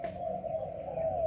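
Pigeons cooing in a loft housing Malaysian and Thai breeds, a low, steady hooting coo, close and sustained, with no talk.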